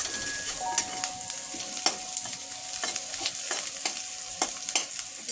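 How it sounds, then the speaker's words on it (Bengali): Food frying in a pan before chopped tomato goes in, cooking plank paneer: a continuous crackling sizzle with sharp clicks of a spatula scraping and tapping the pan, close and with no voices. "একটু ভেজে নিই"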